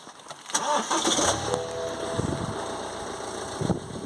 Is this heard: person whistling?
no